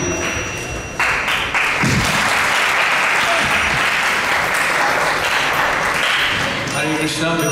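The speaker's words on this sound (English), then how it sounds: "can we give a big round of applause to welcome Mahabhagat" A crowd at an ISKCON Toronto gathering bursts into applause to welcome a speaker, the clapping swelling after a brief start and holding full and steady before easing near the end, where a voice briefly emerges.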